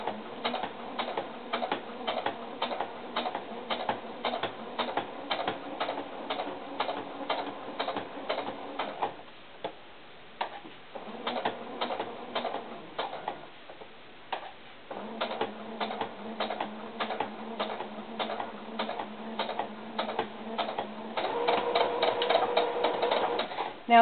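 A sewing machine stitches a seam on small doll tennis shoes, rapid rhythmic needle clatter in several runs separated by brief pauses, close and steady, picking up speed near the end.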